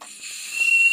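A person whistling in their sleep gives a thin, steady, high breathy tone that holds for a second over a soft hiss and grows slightly louder toward the end.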